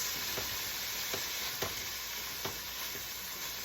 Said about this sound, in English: And we're just gonna stir fry this